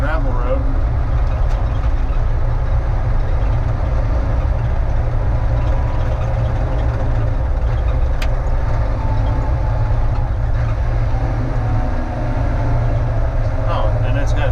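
A vehicle creeps slowly up a hilly gravel road, its engine a steady low rumble with continuous road noise close by and a few faint knocks, unbroken throughout.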